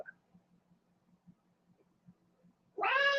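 A pet cat meows loudly and close by in a single drawn-out, wavering cry after a quiet stretch broken only by soft faint taps.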